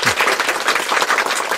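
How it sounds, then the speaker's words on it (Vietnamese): Brief, loud burst of congregation applause for a child in a church during a Pentecost Sunday Mass, dense clapping close by and steady throughout. "cho một tràng pháo tay"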